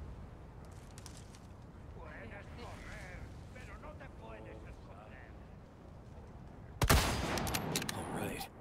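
A rifle fires in Resident Evil 4 Remake: a sudden loud blast near the end, followed by a crackling burst of shots, after a stretch of muffled talking.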